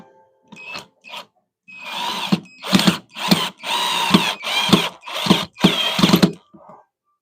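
A drill bores a small starting hole into hardwood on a woodturning lathe setup, making a series of short, whirring bursts of rising and falling pitch, close and moderately loud.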